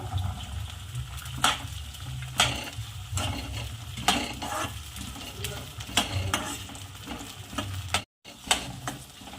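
Green peas tipped into a pan of cooked onion for matar pulao, sizzling steadily with repeated sharp scrapes and clinks of a spoon stirring against the pan, a brief dropout near the end.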